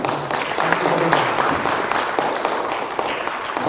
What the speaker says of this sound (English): I think they deserve a little bit of applause from us.